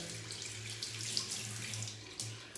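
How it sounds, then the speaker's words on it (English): Hot water runs steadily from a bathroom tap onto a shaving brush, a continuous close hiss and splash with a few brief louder spatters and no talking. "Another way is to wet the brush under the hot water."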